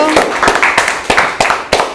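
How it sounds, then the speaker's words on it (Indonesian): Close, loud claps sound for Pevita Pierce on a podcast set. About seven sharp, evenly spaced claps come in a steady rhythm, with little else around them. "Tepuk tangan buat Pevita Pierce"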